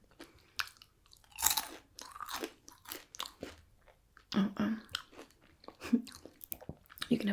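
Crunchy food is chewed close up in irregular bites and crackling chomps over several seconds, with soft mouth sounds between them.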